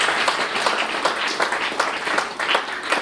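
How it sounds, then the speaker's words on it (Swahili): Congregation applauding during a church sermon on marriage: about three seconds of dense, steady clapping from a crowd, with brief louder bursts throughout. "Pigia Yesu makofi."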